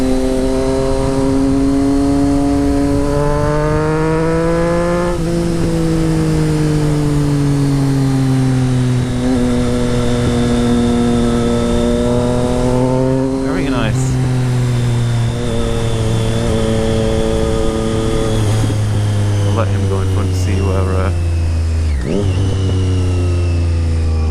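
A Triumph Street Triple motorcycle fitted with a Racefit Growler straight pipe exhaust drones loudly and steadily close by, its engine note rising and falling as it revs and shifts through gears.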